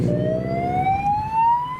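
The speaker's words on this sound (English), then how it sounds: "that'll be the sirens that I heard" A police siren wails with a steadily rising tone, loud and close, over the rumble of traffic at a Japanese car show roll-out.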